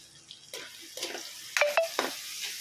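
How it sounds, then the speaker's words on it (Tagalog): Shrimp paste sautéed with tomatoes in a pan gives a few close, short sizzles and scrapes of stirring over a quiet background. "At ito yung bagoong. Ginigisa na natin yan."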